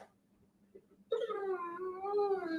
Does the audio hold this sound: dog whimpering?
yes